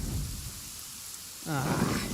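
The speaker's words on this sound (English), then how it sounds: "Uh-oh! Lightning storm!" A lightning storm in the video game Genshin Impact brings steady hissing rain, then a deep rolling rumble of thunder breaks in near the end.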